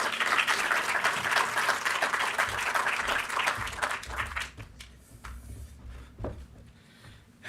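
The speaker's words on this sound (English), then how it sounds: "Let's give Kieren a round of applause" Audience applause at a green games summit and awards event, a dense wash of clapping for about four seconds that fades into scattered claps and a quieter room.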